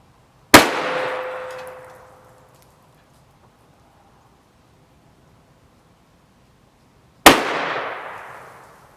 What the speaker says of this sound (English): Okay, 2 rounds went off, but unfortunately we did have a jam.